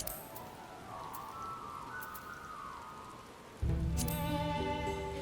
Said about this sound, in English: Labyrinth is currently raining.